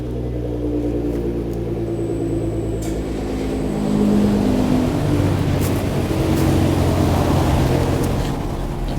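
Nissan GT-R engine running on a dyno, a loud steady low rumble that swells and grows heavier midway, with a thin whine above it and no talking.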